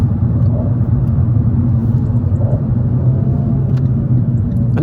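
Abarth 500 with the 1.4 T-Jet 135 bhp engine, downshifting with heel and toe: a steady, loud low rumble from inside the car, with only slight rises in engine note and no talk.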